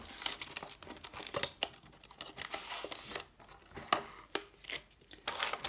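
Plastic packaging crinkling and tearing as a FNATIC knife is unboxed, close and fairly quiet, with irregular rustles and sharp crackles throughout and no talk.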